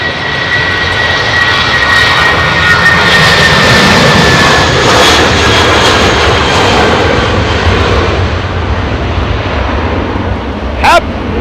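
A Boeing 767 jet lands at London Heathrow in low visibility, a loud, sustained engine roar that holds steady and then eases, with a brief rising whine near the end.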